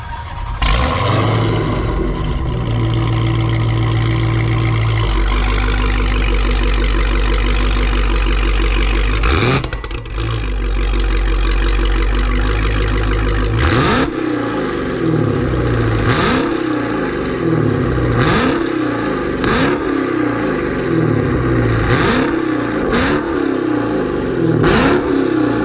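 A Dodge Charger or Challenger fitted with an MBRP or Corsa catback exhaust idles with a deep rumble, then is revved hard in a series of sharp, loud throttle blips close by.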